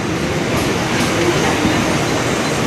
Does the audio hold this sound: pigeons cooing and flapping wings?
no